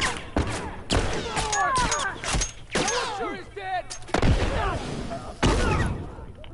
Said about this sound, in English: Yeah, that's me shooting.